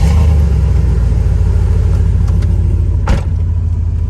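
A truck engine runs loud and close with a deep, steady rumble, broken by a brief sharp clunk partway through before the idle carries on.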